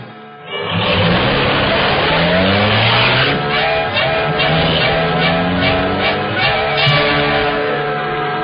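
Car sound effect in a 1940 Green Hornet radio crime drama, the Black Beauty revving hard with a loud, sustained roar, rising and falling engine pitch and tire squeal throughout.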